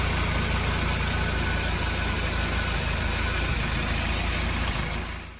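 A G503 Jeep chassis, stripped of its body tub, runs with a steady, close engine idle, a constant low rumble and mechanical hum that holds evenly before cutting off at the very end.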